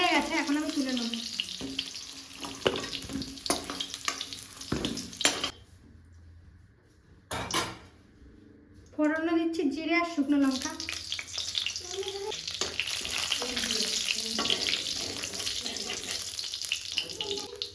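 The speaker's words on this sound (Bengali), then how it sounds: "এখন আলুগুলো ভেজে নেবো" Loud sizzling of potatoes frying in hot oil in a kadai, with clinking utensils and pan clatter, briefly dropping quiet before the sizzle surges back.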